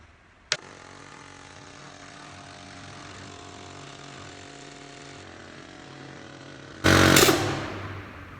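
A repaired air compressor starts up with a sharp click and then runs with a steady mechanical hum and rattle for several seconds, ending in a loud burst of hissing air.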